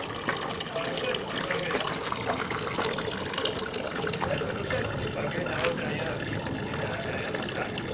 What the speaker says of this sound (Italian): Perché tutta l'acqua veniva qua.